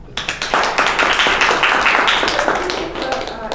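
Applause from an audience at a French-language event, dense rapid clapping sustained and fairly loud throughout with no speech.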